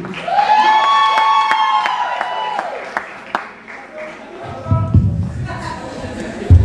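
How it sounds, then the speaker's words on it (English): An audience claps and cheers for the ACC Dance Troupe, a Haitian dance group, with a steady wash of applause mixed with voices and sung tones, then a low rumbling crowd swell near the end. "Start clapping now, please."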